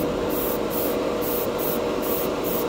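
Mr. Metallic Color GX lacquer paint sprays from an airbrush or spray can in a steady, close hiss, pulsing in short regular bursts, with no voices.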